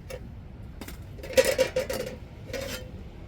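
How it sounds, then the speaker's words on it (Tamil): A few sharp metallic clinks and rattles of a plate set down to cover a pot of fish curry, close by with quiet pauses between them. "இப்போ நம்ம தட்டை போட்டு மூடி வச்சுருவோம்."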